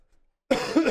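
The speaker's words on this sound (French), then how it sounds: "Je tousse!" One close, loud, harsh cough from a streamer playing Animal Crossing, breaking out suddenly after a moment of silence and trailing into a throaty rasp.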